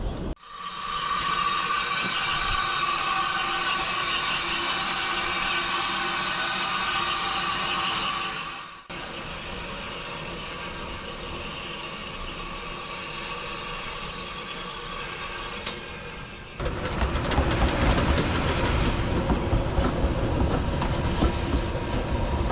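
A narrow gauge steam train on the Welsh Highland Railway runs steadily with continuous rumbling and hissing, the sound shifting in character twice as the train moves along.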